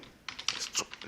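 Quick run of light keystrokes on a computer keyboard, typed while entering text in GIMP, with about half a dozen close, soft clicks in an uneven rhythm.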